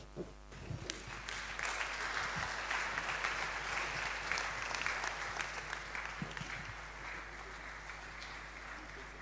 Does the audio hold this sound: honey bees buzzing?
no